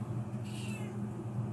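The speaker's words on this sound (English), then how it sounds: "If you hear my cat in the background, she's trying to distract me." Domestic cat meowing softly in the background, one brief faint drawn-out meow rising midway over a low steady room hum.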